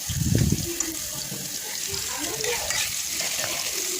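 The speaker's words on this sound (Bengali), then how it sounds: "আলুগুলো দিয়ে দিলাম আলুগুলো একটু লাল লাল করে ভাজা হবে" Potatoes frying in a pan of oil for a vegetarian ridge gourd curry give a steady, close sizzling hiss throughout, with a louder clatter of the pan in the first half-second.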